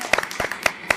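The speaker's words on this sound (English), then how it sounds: "I got to clap for you on that one" A few separate handclaps from one person, close and crisp, spaced out in an uneven slow rhythm with short pauses between them.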